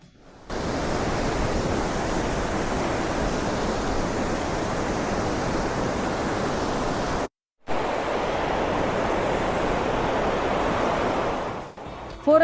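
Atlantic ocean surf washes continuously against the shore of Fuerteventura in the Canary Islands, a steady, loud, broad roar that cuts out briefly once and then resumes, with no voices.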